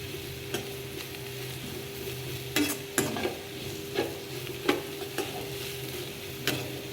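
Spices frying gently on low heat in a pan for a cauliflower and potato curry: a soft, steady sizzle punctuated by scattered clinks and scrapes of stirring, close up and with no talk.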